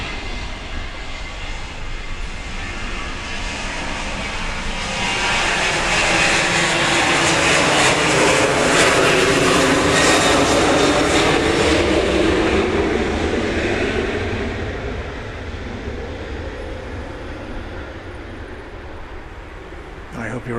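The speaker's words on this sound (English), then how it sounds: "I hope you're appreciating the stereo sounds of planes taking off and landing." An aircraft takes off at Grand Cayman airport, its engine roar building to a loud, sustained rumble that peaks mid-way and then slowly fades into the distance.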